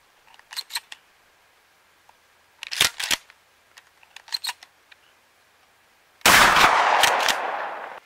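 12 gauge Winchester 3-inch magnum slugs fired from a shotgun with a 28-inch barrel at a chronograph test; several sharp clicks and clacks of handling precede one loud, booming shot that rings out near the end.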